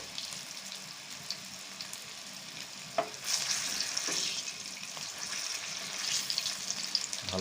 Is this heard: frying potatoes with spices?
yes